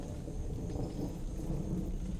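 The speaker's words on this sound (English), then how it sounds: "Just crank the thunder." Synthesized thunder from a Kia synth soundscape built on pink noise, a steady low rumbling roar that swells slightly over a couple of seconds with rain-like hiss on top, continuous and fairly loud with no voices.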